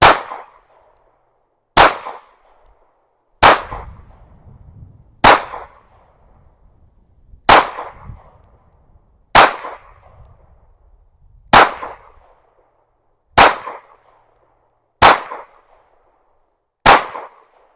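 Ten single 9mm pistol shots from an Anderson Kiger 9C Pro firing 115-grain Arms Core rounds at a range, sharp loud cracks evenly spaced about every two seconds, each alone with a brief ringing tail.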